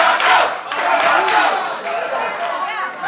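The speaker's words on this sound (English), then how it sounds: "The crowd chanting his name" At a professional wrestling show, an arena crowd loudly chants a wrestler's name in rhythmic waves, mixed with cheers and some clapping, steady and close throughout.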